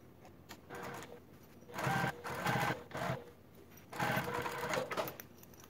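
A sewing machine stitches a seam on a Martini Crossover garment, running in several bursts of rapid whirring and clatter separated by short pauses, close and steady.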